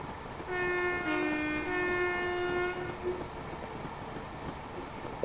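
A Northern train in Train Sim World 5 sounds a loud two-tone horn while running toward a short platform between Leeds and Manchester Victoria, held for about two and a half seconds, followed by quieter rumbling of the moving train.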